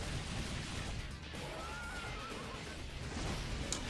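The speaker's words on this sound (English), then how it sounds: "Don't fight any flaming horses." A flaming horse whinnies in a video game fight: a faint, drawn-out neigh rising from a dense, steady wash of game noise, distant and partly masked.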